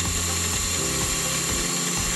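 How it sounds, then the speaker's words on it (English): A drill bores into a metal part on a Sherline machine in a home machine shop, giving a steady, dense whirring grind with a faint tonal whine that holds throughout. "The downward force from the drill is significant,"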